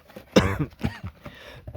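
A single close cough or throat clear from someone working on the rear brake pads of a 2003 Audi A8 D3 4.2 petrol, with a short burst followed by quieter breathy sounds.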